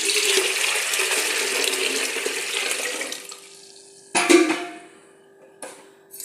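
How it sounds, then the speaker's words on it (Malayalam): Hot salt water being poured into cold water, a steady rushing splash that runs for about three seconds, then stops, followed by two short bursts of water and clatter, close and fairly loud. "ഈ പച്ചവെള്ളത്തിലേക്ക് ഒഴിക്കുന്നു."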